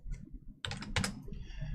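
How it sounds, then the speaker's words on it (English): A computer keyboard tapped for a quick shortcut, giving a few close, crisp key clicks bunched in a short burst after a brief quiet pause, with no voices. "I'm just using a keyboard shortcut to do it."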